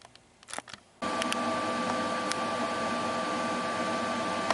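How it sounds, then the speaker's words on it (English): Steady continuous crackling buzz of a PrimeWeld MIG180 MIG welder tacking steel on a utility cart platform and axle, starting abruptly after a brief quiet lead-in with a few clicks and holding at an even level. "we tack that, and we tack this one just to keep everything locked in place"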